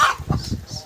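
A village chicken gives a short burst of clucks up close, a few quick notes in under a second.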